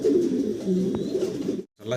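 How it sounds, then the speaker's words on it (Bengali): Modena pigeons coo softly and steadily in the background, a low rolling murmur that runs for most of the clip, with a brief pause near the end. "মডার্না কবুতর দেখতে পারতেছেন"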